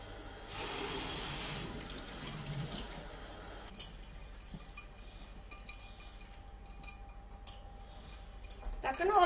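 Cold tap water runs over the bottom of a pan holding cooling caramelized sugar, a steady hiss of flowing water that thins out partway through, with faint clinks near the end.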